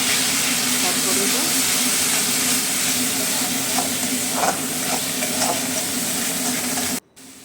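Spice paste of ginger, tomato, garlic and fried onion with cumin, chili and turmeric powders sizzling and being stirred in a pan for Bengali cooking, a steady close frying hiss with occasional stirring scrapes, cutting off abruptly near the end.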